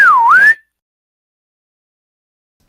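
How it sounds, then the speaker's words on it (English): One loud human whistle, about half a second long, swoops down and back up in pitch. It rings out alone at close range, followed by silence and a tiny click at the very end. "I let out, after a couple unsuccessful attempts, a really loud whistle."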